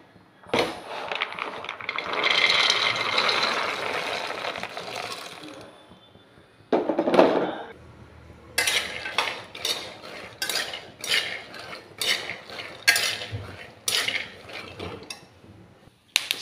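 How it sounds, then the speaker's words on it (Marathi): A kilo of peanuts dry-roasting in a pan: a dense rattling, scraping clatter of nuts being stirred, continuous at first and then in choppy bursts, close and fairly loud. "शेंगदाणे भाजून घेणार आहोत आपण"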